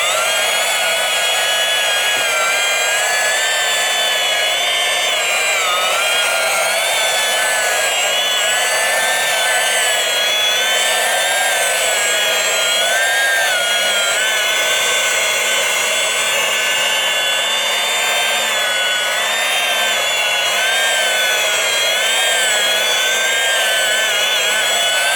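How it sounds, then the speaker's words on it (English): A Bally Zenon pinball playfield made into wall art is polished with a power tool, giving a continuous loud high-pitched whirring hum that wavers slightly in pitch and stays steady without a break. "So I'm still polishing it exactly like I would do with a playfield"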